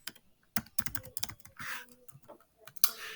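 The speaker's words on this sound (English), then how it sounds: "the way we produce the scatter plot is we go ahead and we just type in that data." Data typed on a computer keyboard, a near, quiet run of sharp key clicks in uneven bursts with short pauses between them, and no voices.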